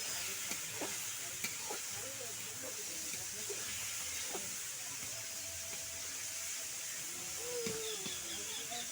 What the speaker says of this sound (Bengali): শুধু খুন্তিটা দিয়ে নাড়াচাড়া করতে হবে।